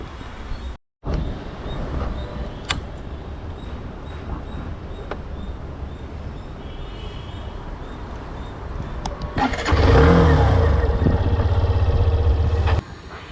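A Hero Xtreme 125R Dual ABS motorcycle idles quietly in the background, then its engine starts and revs loudly close by for a few seconds before it cuts back.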